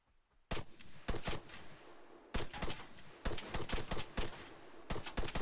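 Rapid bursts of gunfire in the video game Arma 3 crackle in clustered volleys, loud and close, separated by brief pauses, with no talking.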